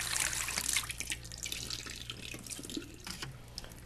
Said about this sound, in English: Put some water in our big cup there.